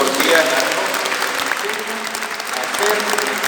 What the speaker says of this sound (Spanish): para Rosa de Lima le damos un aplauso